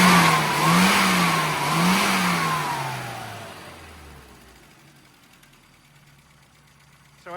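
A tuned car engine revs loudly up and down in two or three swells, then settles and fades toward a quieter idle, with a brief knock at the very end.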